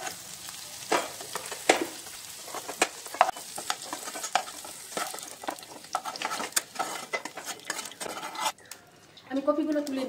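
Shallow-fried cauliflower with poppy seeds is stirred and lifted from a pan in a home kitchen, giving a soft continuous sizzle broken by repeated close scrapes and clinks of a utensil against the pan, with a brief voice near the end.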